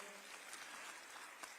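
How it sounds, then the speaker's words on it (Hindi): Audience clapping at a women's self-help group annual celebration with the state chief minister present, a steady wash of applause at moderate distance throughout, with no voices over it. "आदरणीय श्री विजय शर्मा जी, आप सब एक बार ताली बजा के उमन के स्वागत करा।"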